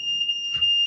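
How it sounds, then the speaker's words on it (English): A smoke alarm set off by vape vapour in an indoor sewing space shrills with a loud, steady high-pitched tone, held unbroken and alone throughout. "That's the fire alarm."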